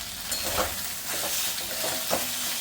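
Spices for a Bengali fish curry are stirred and sautéed in a pan, a steady close sizzle broken by soft scraping strokes of a spoon every half second or so.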